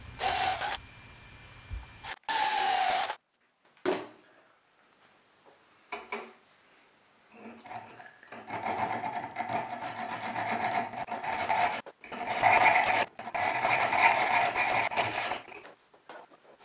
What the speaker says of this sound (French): Je perce deux trous à chaque extrémité du gabarit